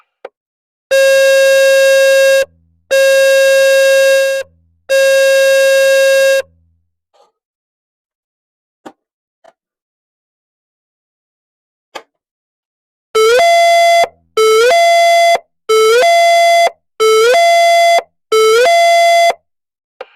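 A school alert alarm blares in three long tones, then after a quiet gap sounds in five shorter repeated blasts, loud and harsh.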